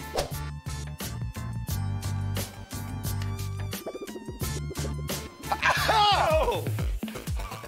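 A man sneezes after sticking a rolled corner of tissue paper up his nose; a sharp, loud burst near the end rises over steady background music, with a couple of short vocal sounds just before it.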